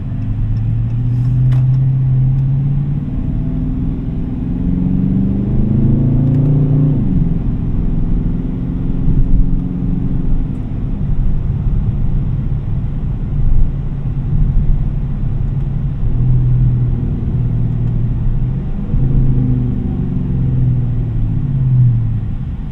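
A 2019 Dodge Charger Daytona V8 drives in manual mode, its deep rumbling engine note rising and dropping through several gear changes, loud and close inside the cabin.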